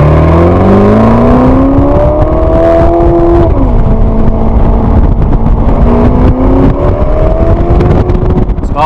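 A Ferrari California T's 3.9-litre V8 engine accelerates loudly and steadily, its rising tone climbing through gears with a brief shift dip midway, heard from close inside the car with no talk.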